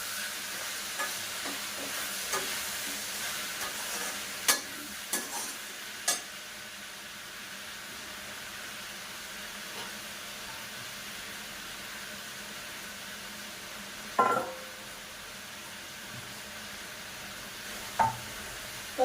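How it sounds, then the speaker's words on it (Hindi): Tomatoes cook in oil for a potato and capsicum curry, giving a soft steady sizzle with occasional faint knocks and scrapes of stirring against the pan. "मैंने टमाटर काट लिए थे, ये रहे टमाटर, तेल डाल दिए, अब इसे चला देंगे।"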